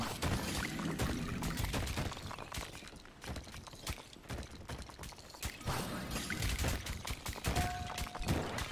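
Water collected in the mining game Dome Keeper, a steady pouring, splashing rush with dense crackling bursts that dips briefly midway and swells again, heard alone and fairly quiet.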